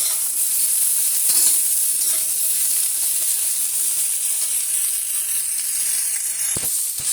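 Chopped onion for matar paneer masala frying in a pan gives a loud, continuous close hiss and sizzle with a few soft scraping stirs, and a knock near the end.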